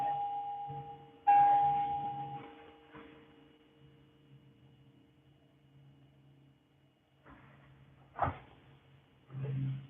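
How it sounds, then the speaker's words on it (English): Faint, sparse wind chime tones ring out in a yard and slowly fade, separated by quiet pauses, with a low hum underneath. "That's the wind chimes that my family has had in the yard forever"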